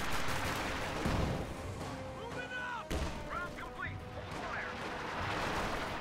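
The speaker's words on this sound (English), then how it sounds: "Sniper continues to pop away with the incendiary round." Gunfire in a real-time strategy battle between infantry units, with a sniper firing incendiary rounds, several sharp shots and booms amid a busy battle din, with a voice commentating over it.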